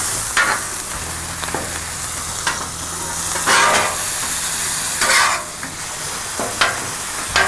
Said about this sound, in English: I'm gonna drop a little butter on there.